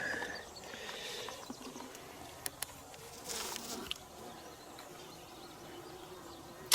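Worker honeybees buzzing around a beehive as they carry dead bees out, a soft continuous outdoor hum with a few light taps and brief louder passes nearby.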